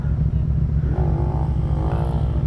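A Yamaha FZ-07 motorcycle revs hard during a wheelie, a loud, close, steady engine roar with a rising pitch that holds for the whole moment.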